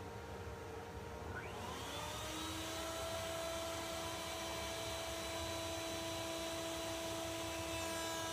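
Router bit spinning up and cutting into a wooden leg for a mobile base for a Clavinova, a loud, steady high-pitched motor whine that rises in pitch as it reaches speed and then holds constant.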